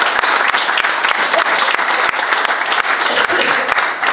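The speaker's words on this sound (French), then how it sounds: "On peut les applaudir." A crowd applauds steadily at the opening ceremony of a 2018 French national sports final, many hands clapping in a dense, loud wash that holds its level throughout with no voices.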